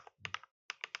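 Quick bursts of keystrokes on a computer keyboard while typing C++ code, a few taps, a pause, then three more close, soft clicks with no talking.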